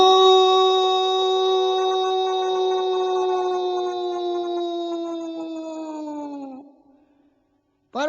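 A human voice imitates a dog howling: one long, sustained, tonal howl that slowly falls in pitch and fades out, then a brief rising note right at the end.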